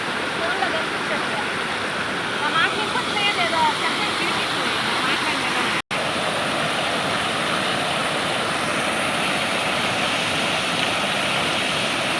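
A loud, steady roar of a waterfall at Penchalakona fills the whole clip, close and continuous, with a brief dropout midway and faint voices underneath.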